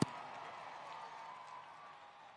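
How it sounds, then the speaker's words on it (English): Crowd in a monster truck arena cheering and applauding, a sustained distant wash of claps and voices that slowly fades after a sharp opening hit. "Enough said with that crowd reaction"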